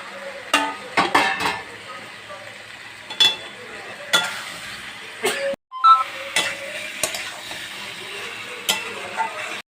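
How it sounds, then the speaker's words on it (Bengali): A spatula scrapes and knocks against a pan in irregular strokes as jackfruit and potato are stir-fried, with a faint sizzle underneath. "এঁচোড় আলু ভাজাটা দিয়ে ভালো করে কষবো"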